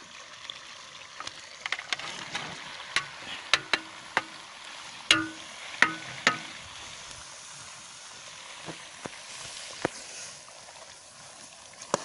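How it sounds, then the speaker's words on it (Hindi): Chopped teetak (ilakai) vegetable being stirred in a pan: a soft, steady sizzle with scattered sharp clicks and scrapes of a spoon against the pan, fairly close, with no voices. "ये अभी टीटक की सब्ज़ी इसके अंदर डाल देंगे जो हमने काट कर रखी थी टीटक"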